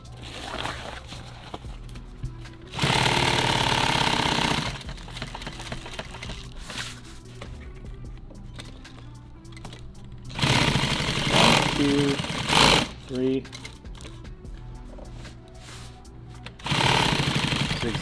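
Sewing machine zigzag stitching nylon tactical gear: loud rapid mechanical bursts of several seconds each, repeating between quieter pauses, close to the machine.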